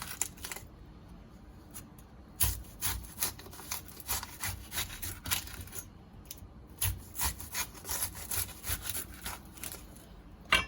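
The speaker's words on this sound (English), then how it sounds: "Now I want to get some thin slices from the onion." A knife cuts thin slices from an onion with the skin on, making a quick, steady series of close, crisp taps on a cutting board that continue for several seconds without talk.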